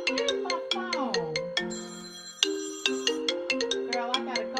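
A mobile phone ringtone plays loud and close, a bright melodic electronic tune of rising and falling tones with rhythmic plucked notes, alone without talk.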